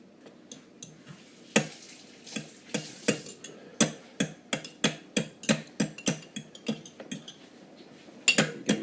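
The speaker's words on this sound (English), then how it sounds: "Give them a good sort of whisk up now with the thing." Eggs whisked in a bowl for a chocolate cake, a steady run of sharp metal clinks against the bowl, fairly close, each stroke distinct and quickening toward the middle.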